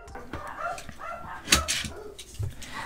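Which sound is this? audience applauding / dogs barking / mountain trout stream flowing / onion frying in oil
dogs barking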